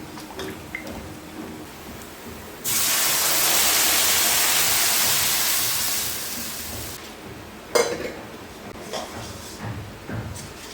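Gram flour kadhi batter is poured into a hot kadai, setting off a sudden loud hiss that lasts about four seconds and then cuts off, followed by a sharp clank and a few softer knocks.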